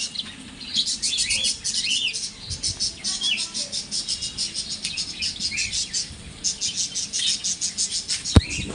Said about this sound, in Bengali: পাখির কিচিরমিচির আওয়াজ শব্দ কত সুন্দর লাগছে পুরো